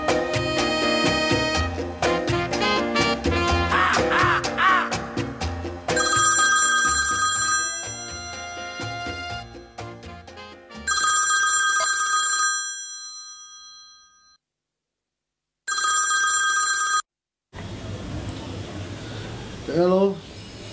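A landline telephone rings in three loud, bright bursts of electronic trilling separated by pauses, following a stretch of music, with a voice coming in at the end.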